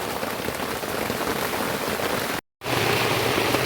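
Steady rain pours down on a surface in a dense, continuous hiss, loud and close, with a brief cut to silence partway through before the downpour resumes.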